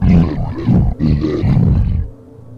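A voice imitates an ogre yelling in a made-up ogre language, a loud, rough, growling roar in two long bursts, close and harsh, fading out at the end.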